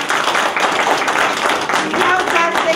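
A village gathering audience in Sircova applauds, a dense, steady wash of clapping lasting the whole few seconds with murmuring voices mixed in.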